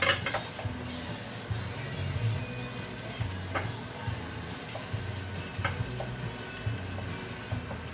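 Spring onions fry in butter over high heat with a steady broadband sizzle, and a few sharp spoon or pan clicks and scrapes punctuate it at irregular intervals.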